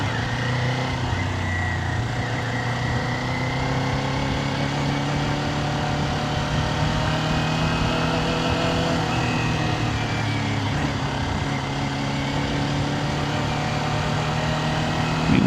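A Kawasaki Ninja 400 motorcycle rides through narrow inner city streets in second gear, its engine holding a steady, continuous drone with a brief pitch shift early on, heard up close throughout.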